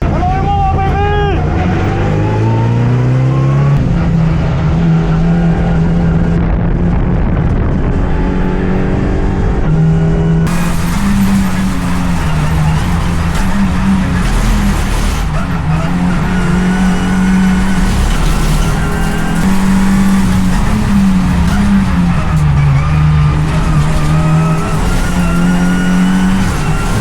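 Race car lapping Imola in a sim racing game, the engine droning loud and continuous as it climbs and drops through the gears, with a voice talking over it at times.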